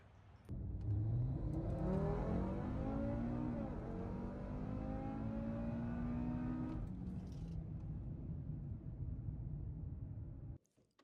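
A tuned Audi TT RS Mk3 fitted with a downpipe accelerates hard, its engine note rising through the gears with brief shift dips, loud and close for about six seconds before fading into road noise.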